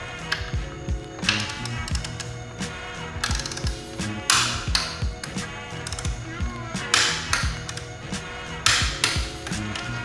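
Ratcheting wrench clicks in short bursts while tightening bolts on Ducati 959 Panigale rearsets, close metallic ticking separated by brief pauses, with mechanical taps between.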